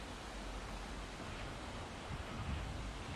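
Clear water of the Hongjecheon stream in Seoul flowing steadily beside a small hermitage, a continuous broadband rush that stays even and fairly near with no talk.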